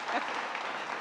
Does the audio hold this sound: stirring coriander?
no